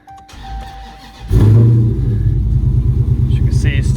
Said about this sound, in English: As you can see, starts up first crank, no issues.